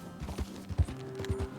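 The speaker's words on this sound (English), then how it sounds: "let's find somewhere to hitch this horse" A horse's hooves clip-clop in Red Dead Redemption 2, a run of soft irregular hoof thuds at walking pace, close and fairly quiet, with a faint tonal hum beneath and no talk.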